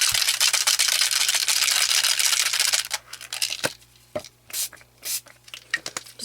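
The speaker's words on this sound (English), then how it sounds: "Giving it a spritz, and then I'll let that dry." A long continuous hiss of a spray bottle misting Tattered Angels Glimmer Mist over a craft spray box, followed by quieter scattered taps and handling clicks.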